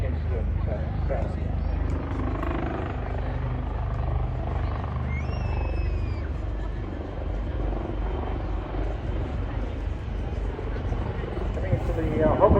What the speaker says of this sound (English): Coming into the hover now to show you the dexterity not only of this helicopter